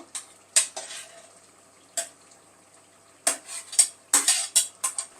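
A spoon scrapes and clatters against a cooking pot while mutton and drumstick curry is stirred, in irregular close bursts separated by short pauses.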